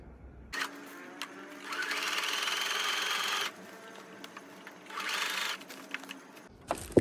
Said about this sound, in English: I'm using a simple sewing machine and a simple straight stitch